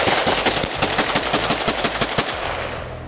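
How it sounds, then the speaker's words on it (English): Rapid Glock pistol gunshots fired at a shooting range, a loud, closely spaced string of sharp cracks lasting about three seconds. "letting me shoot his Glock"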